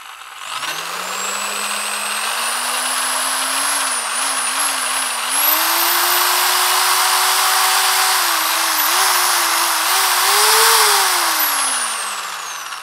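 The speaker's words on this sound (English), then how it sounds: "I triggered it on, all right? It was at a very low RPM, so let it run in low RPM for a few seconds." A Bosch GSB 600 RE corded 600-watt drill runs at no load, a loud continuous motor whine that rises from low speed, wavers slightly, holds high, then winds down at the end, with no talk.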